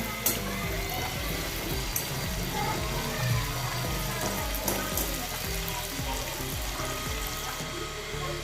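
Pieces of jackfruit fibre fry in hot oil over a gas flame, making a loud, dense, steady sizzle and crackle that runs unbroken throughout.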